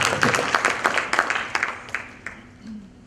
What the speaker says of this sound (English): is that not good enough to give a clap?